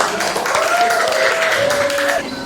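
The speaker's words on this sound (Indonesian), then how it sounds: "Kita beri tepuk tangan anak-anak." In a classroom, schoolchildren clap together for a group about to perform, with loud, steady clapping and a voice rising over it.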